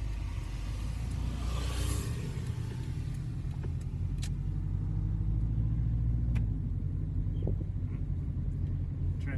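A Subaru EA82T turbo car rolls downhill on its first drive, its engine a steady low rumble with road noise throughout, occasional faint clicks and a slight shift in tone partway through.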